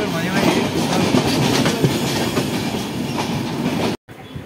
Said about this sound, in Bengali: আবারও ট্রেন রওনা দিল তার আপন গন্তব্যে